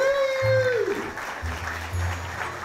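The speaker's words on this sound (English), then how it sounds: "Come on, a round of applause." Applause at a striper fishing tournament trophy presentation, clapping under a whooping voice and other speech, with a low hum running beneath.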